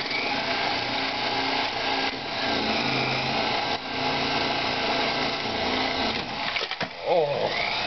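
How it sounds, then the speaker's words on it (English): Sawzall reciprocating saw cutting icicles in a Wisconsin winter, a steady loud buzzing motor that runs almost the whole time, then breaks off near the end with a short rattle. "Ways to use your Sawzall in Wisconsin winters."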